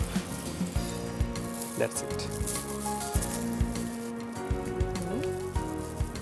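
Chicken cheese rolls filled with vegetables deep frying in oil, a dense continuous sizzle with crackling bursts, while people talk over it and a few light utensil taps sound.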